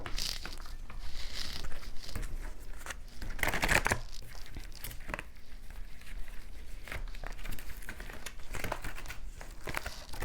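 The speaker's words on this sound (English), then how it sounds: "I am learning how to shuffle." Tarot cards are shuffled by hand, producing irregular papery rustles, riffles and soft slaps up close, with brief louder bursts and quieter gaps between them and no talking.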